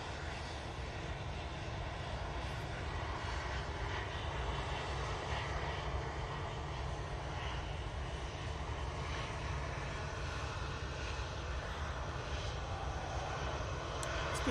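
An EasyJet airliner taking off at Manchester Airport gives a steady, continuous jet roar, broadband and constant throughout, heard from a distance without voices.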